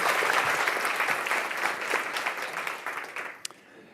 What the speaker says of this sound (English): So let's give big applause.